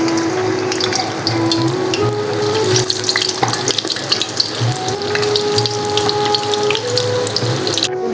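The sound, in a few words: pumpkin dessert balls frying in hot oil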